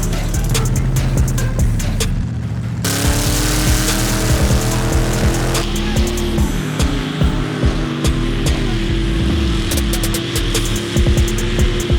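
Race cars tear past in a loud, close engine roar, with revving pitch changes and a sharp break partway through as one machine gives way to another during a tow-test racing event.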